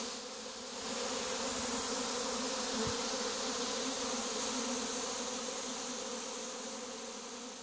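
Honey bee colonies housed in tree cavities give a steady, dense buzz that lasts throughout, with no speech.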